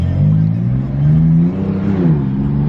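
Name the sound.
2017 BMW F80 M3 engine downshifting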